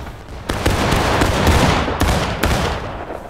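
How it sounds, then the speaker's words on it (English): Musket volley fire in War of Rights during a 30 vs 30 skirmish: a loud, dense crackle of many shots at once, with sharp distinct cracks standing out at intervals through a sustained roar. "Alright, boys, prepare to fire by volley."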